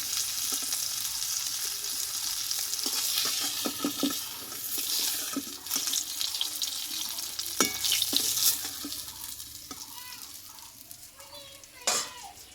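Silver fish frying in hot oil makes a loud, steady sizzle and crackle, with intermittent scraping as the pieces are stirred and turned in the pan.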